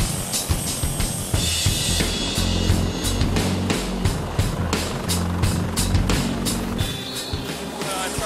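A steady, heavy rotor thrum with rapid chopping pulses and broad rushing noise, loud and continuous as if aboard or beside a helicopter flying to the Hamptons.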